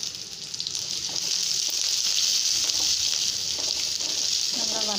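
Onion, curry leaves and dried red chili sauté in oil for an eggplant tamarind curry, giving a close, continuous sizzle with occasional stirring scrapes. A voice comes in briefly at the very end.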